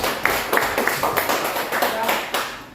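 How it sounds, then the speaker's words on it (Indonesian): A small group claps in a classroom-style setting, a brief patter of uneven hand claps with soft voices mixed in. "silakan tepuk tangan dulu untuk waktunya"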